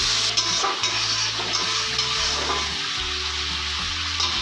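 A pan of potol (pointed gourd) and fish curry sizzles loudly and steadily as a splash of water is added, with a continuous close-up hiss and crackle throughout.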